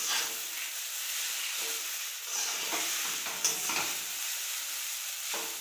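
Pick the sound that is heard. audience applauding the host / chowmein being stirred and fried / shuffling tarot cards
chowmein being stirred and fried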